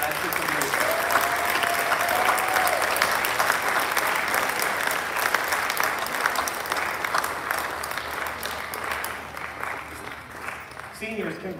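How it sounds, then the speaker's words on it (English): Sustained applause from a high school audience for graduating seniors of the class of 2021, dense and loud, easing slightly toward the end. "Let's give the class of 2021 another round of applause."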